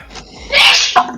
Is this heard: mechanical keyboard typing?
no